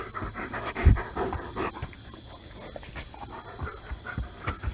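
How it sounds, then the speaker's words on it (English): A dog pants rapidly and steadily up close, with quick rhythmic breaths running throughout and a brief louder huff near the start, over faint background hiss and no talking. "Is Lolo a good dog today?"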